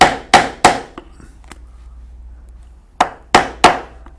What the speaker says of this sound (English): on the other end, we will punch 5 holes about 3/4 inch apart